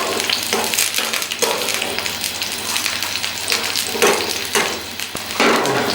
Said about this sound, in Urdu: گھی ہمارا گرم ہو چکا ہے، ہری مرچ ڈالیں گے، ہری مرچ کو ہلکا سا فرائی کر لیں گے۔